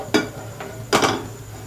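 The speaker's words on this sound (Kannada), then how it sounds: "ಪ್ಯಾನ್ ಇಡ್ತಾ ಇದ್ದೀನಿ." A metal pan set down on a stove top while cooking mutton pepper fry, giving two distinct clanks about a second apart with a faint knock between them.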